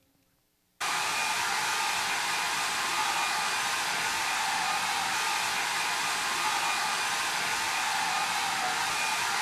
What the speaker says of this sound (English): We'll turn off the blow dryer. That thing is toast.